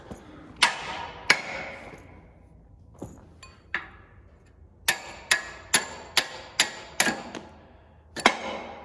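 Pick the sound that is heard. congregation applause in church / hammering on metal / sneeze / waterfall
hammering on metal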